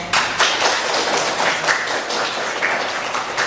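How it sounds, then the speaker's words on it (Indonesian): A classroom of vocational high school students claps for all the groups, a ragged, lively round of hand claps with distinct individual slaps and taps standing out from the crowd, fairly close and steady for a few seconds. "Tepuk tangan untuk semua kelompok."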